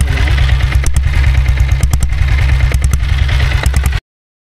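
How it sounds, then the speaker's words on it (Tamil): A modified Royal Enfield Bullet motorcycle fitted with a diesel engine idles close by, its exhaust making a loud, steady low thump with a rattling clatter that carries through and then cuts off abruptly. "ஸோ டீசல் புல்லட்டோட இன்ஜினோட எக்ஸாஸ்ட் சவுண்ட் சொல்லுங்கள்."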